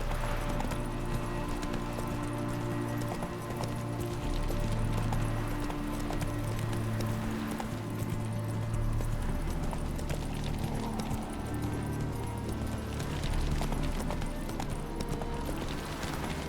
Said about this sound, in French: Au galop, Ablette.